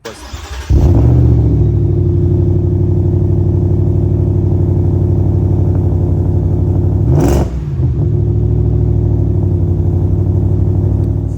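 A 2024 Ford F-150 Raptor R truck's engine starts with a burst, then holds a loud, deep, steady rumble. Midway it briefly revs with a sharp rising note before settling back to a throaty idle, with no talk.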